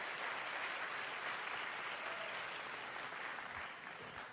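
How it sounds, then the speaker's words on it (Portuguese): Steady, dense applause from a church congregation during a worship service, a continuous crowd of clapping hands that holds at a fairly even level throughout and tapers slightly at the end. "Salve de palmas para Jesus, queridos."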